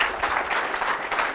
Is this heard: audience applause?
yes